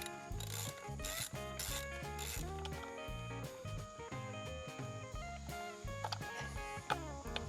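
A ratchet turning a socket bit that does not fit the Torx screw on a Harley Touring primary chaincase, giving repeated mechanical clicking and grinding bursts over background music.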